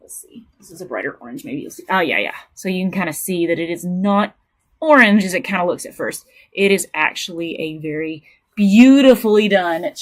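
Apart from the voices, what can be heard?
No everyday noise stands out behind the speech.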